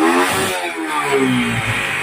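A Suzuki Smash STX 125 motorcycle engine with a backfiring fault revs up loudly nearby, its pitch climbing and dipping through a couple of throttle bursts.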